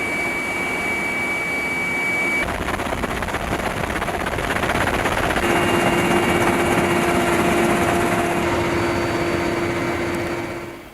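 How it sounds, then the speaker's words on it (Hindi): A low-flying military attack helicopter loaded with air-to-surface missiles, its steady loud rotor and turbine whine holding throughout with tonal engine hums, and no talk. "यह helicopter air to surface attack करने वाली मिसाइल से लोडेड है और साथ ही काफी लो फ्लाइंग करके दुश्मनों पर हमला कर सकते हैं।"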